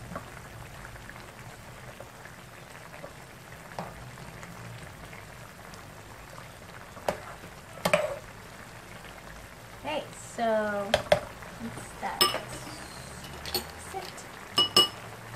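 Fish sauce stirred into chicken tinola in a pot, a utensil clinking and scraping against the metal in short bursts, sparse at first and busier toward the end, with soft background noise and brief voices.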